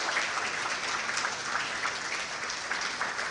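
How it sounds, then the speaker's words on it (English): An audience claps for teachers in a large, continuous round of applause, an even, moderately distant patter of many hands with no speech over it. "Let us just give them a very good clap"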